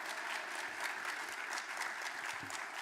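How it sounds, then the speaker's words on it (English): A crowd at a Martin Luther King Jr. Day event applauds, a soft, steady patter of many hands clapping at a distance, with no voices standing out. "Give them another round of applause."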